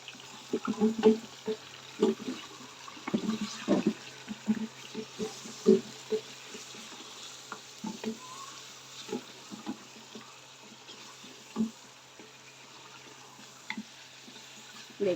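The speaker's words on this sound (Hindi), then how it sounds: "अब हम इसको फ्राई करेंगे तकरीबन 7 से 8 मिनट।" Beef for nihari fries in a pressure cooker with a soft, continuous sizzle, broken by irregular scraping and clanking as the meat is stirred, close and fairly quiet with no voices.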